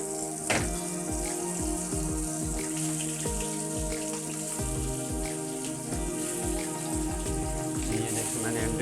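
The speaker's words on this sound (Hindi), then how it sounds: "अंडों को जो है वो तकरीबन 2 से 3 मिनट के लिए इनको फ्राई करेंगे" Eggs coated in masala frying in hot oil for an egg korma, a steady close crackle and sizzle with dense popping spatter running throughout.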